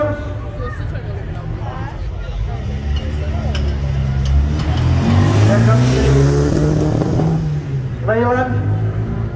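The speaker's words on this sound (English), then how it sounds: "MGB Roadster, Paul Matthews." An MGB Roadster classic car drives past during the Barley Saturday parade in Cardigan, its engine rumble swelling loudly and then easing off amid crowd babble, with a voice announcing near the end.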